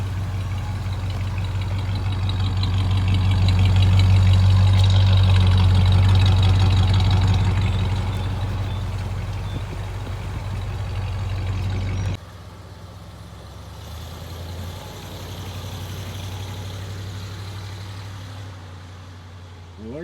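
A 1970 Chevrolet CST/10 pickup truck engine idles loudly and steadily up close, a deep low rumble that swells, then shifts to a softer, thinner drone partway through.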